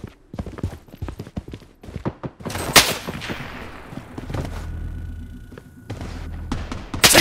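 Rapid gunfire bursts from the online shooter Project BloodStrike, with an AK-47 among the weapons, loud and close in clustered volleys, followed by sustained rumbling battle noise and further shots.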